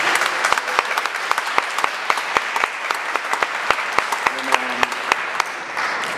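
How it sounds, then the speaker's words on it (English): A crowd at a boxing event in Rochester, NY applauds for the mayor, a sparse room of claps with sharp individual hand strikes, steady for several seconds with a voice briefly underneath. "Give a round of applause for our lovely mayor"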